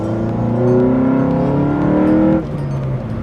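A car engine fitted with an aftermarket intake revs loudly with a deep, throaty rising drone that climbs steadily, then drops off abruptly near the end as the throttle lifts.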